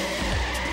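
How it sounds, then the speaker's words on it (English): Race car number 16 scrapes its roof during a crash, a rough skidding grind with tire squeal and engine noise, loud and close for under a second. "Watch number 16 scrape the number off his roof."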